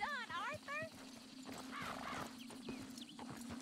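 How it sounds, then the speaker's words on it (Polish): A white horse in the western game Red Dead Redemption 2 whinnies at the start, followed by soft hoof clip-clops and snorting close by, while a person talks over the animal sounds. "Koniku biały, piękny."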